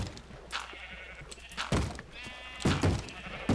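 Sheep in the Minecraft video game bleat several times in short, clear bursts that grow louder toward the end, with light game noise between them.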